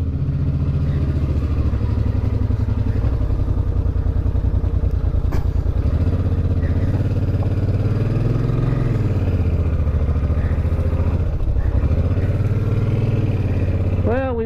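Motorcycle ridden on the road, a steady engine drone with shifting pitch and wind rumble throughout, engine revs surging and easing, with speech heard over it.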